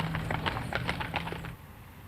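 Heavy grey Percheron working horses plod along, hooves clip-clopping in a steady uneven rhythm of soft knocks over a low background hum, close and moderately loud, stopping near the end.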